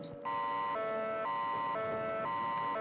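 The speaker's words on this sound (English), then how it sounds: "Uh-oh, sirens!" An emergency alert siren in a game scenario gives a loud, steady electronic two-tone wail, alternating high and low pitch about twice a second, with no talking over it.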